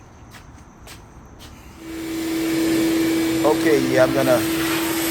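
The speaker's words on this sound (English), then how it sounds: "I have a rigid vacuum cleaner. This thing sucks really well" A Ridgid vacuum cleaner switches on partway through and runs with a loud steady whine and hiss, used during reassembly of a Whirlpool gas dryer, while someone speaks briefly over it.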